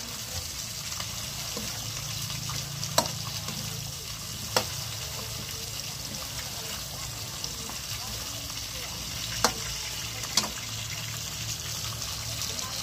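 Patola, sponge gourd, being sautéed in a pan, a steady close sizzle throughout with occasional light utensil clicks and a quiet voice talking underneath.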